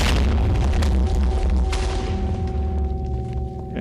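In a video game, TNT fires a cannon with a loud, close booming explosion, followed by a rumbling decay over a few seconds, with no voices.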